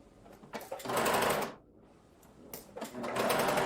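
A sewing machine stitches a 1 cm seam on a pants facing, running in two loud close bursts separated by a short pause, with brief light clicks between.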